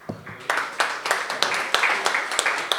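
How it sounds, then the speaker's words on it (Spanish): Scattered audience clapping at a gathering honoring a former boat crew member: separate, fairly close hand claps in an uneven rhythm that grow a little denser, with no steady roar. "quiero un aplauso para él, para Domingo."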